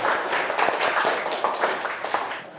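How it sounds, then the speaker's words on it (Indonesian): A classroom of students claps together during a school lesson, a lively burst of close hand claps with audible individual smacks that fades out near the end. "Oke, tepuk tangan untuk semua."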